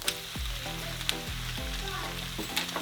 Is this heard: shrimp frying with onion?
yes